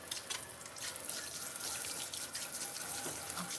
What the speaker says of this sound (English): Just rinsing out my sink.